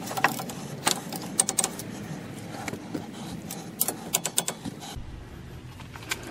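A torque wrench ratcheting on brake caliper bolts of a Chevy Colorado, with a run of sharp metallic clicks in irregular bursts, close and fairly quiet, ending in a louder click cluster.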